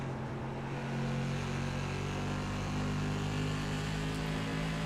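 The onboard engine of race car number 2 drones steadily as it accelerates smoothly out of the corners. The sound is continuous and moderately loud, with no voices.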